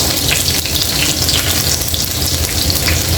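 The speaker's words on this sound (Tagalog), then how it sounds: "Ayan o, magisa na natin ang ating bawang." Garlic sautéing in a pan for chop suey gives off a loud, steady, dense sizzle with no break and no voices.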